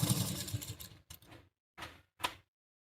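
A sewing machine runs a stitch along a gown neckline, one longer close whirring burst followed by a few short stop-start runs with silent gaps between them, no talk.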